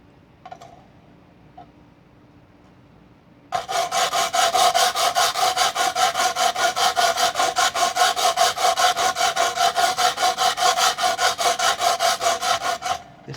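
A guitar body being sanded by hand with a diamond grit abrasive, starting after a few quiet seconds with faint knocks, then a close, loud, rhythmic back-and-forth rasping scrub that repeats quickly and evenly to the end.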